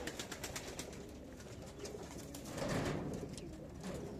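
Sport pigeons coo softly in a dovecote amid a busy background of faint rustling and clicks, the cooing swelling briefly midway.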